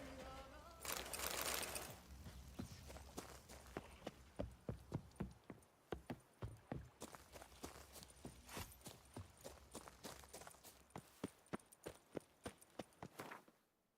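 Hoofbeats of the horse Roach approaching in The Witcher, a steady run of sharp clip-clop strikes drawing near, with a brief whooshing swell early on and the hooves continuing rhythmically to a stop.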